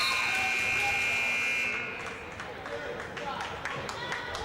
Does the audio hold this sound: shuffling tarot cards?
no